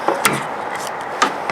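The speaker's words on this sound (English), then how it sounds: "every time I snap the upper blade, it makes this instant, almost scary snapping sound" The upper blade of a 1970s Kawasaki metal overlocker snaps closed in a few sharp, close clicks: two near the start and one more after a second, over a quiet background.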